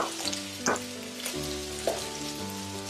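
Garlic and seafood frying in a wok for char kway teow: a steady, dense sizzle with a few louder bursts as the food is stirred and tossed, close and continuous, with no talking.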